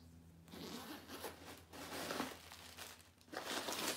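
A zipper top closure on a soft pebbled leather purse is pulled open and shut in several quick, rasping runs, close up, with faint crinkling as the bag is handled and no voices.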